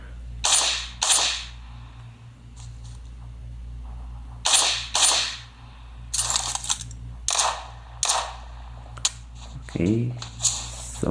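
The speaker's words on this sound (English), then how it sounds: "someone is firing at me" Gunfire in a PUBG Mobile match comes as bursts of sharp cracking shots, several volleys spaced through the scene, over a low steady game hum, with talking heard between.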